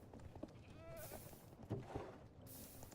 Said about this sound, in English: Our goats are making noise.